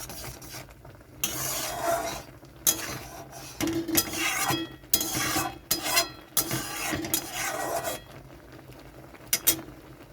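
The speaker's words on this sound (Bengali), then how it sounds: "ওই জন্য আমি এরকমভাবে একটু নেড়ে দিচ্ছি ভালো করে" A spoon scrapes and rubs through hog plum (amra) chutney cooking in a pan, in repeated bursts of rasping strokes separated by short quiet gaps.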